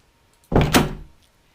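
Door to a prison common room opening, a single close thunk with a short rattling follow-through that fades within about half a second, heard alone in a quiet space.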